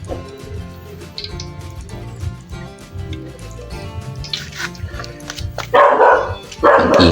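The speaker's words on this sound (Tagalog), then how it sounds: "Ang ingay naman tong aso na to." A dog barks in short loud bursts near the end while oil heats in a home kitchen during the cooking of chili garlic flakes, with a steady background din underneath.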